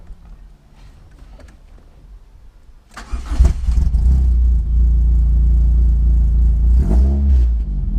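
A car engine cranks and catches at about three seconds after a quiet stretch of clicks and low rumble, then settles into a loud, steady idle with a brief rev near the seventh second.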